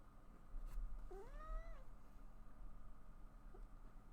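A cat in the video game Tales of Berseria gives a single short meow with a rising-then-falling pitch, quiet against a low background hum, alone without talk.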